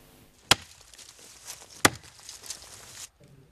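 West African rosewood is chopped during illegal logging in Casamance, southern Senegal, giving two sharp, close axe strikes on wood a little over a second apart, with fainter knocks and rustling in between.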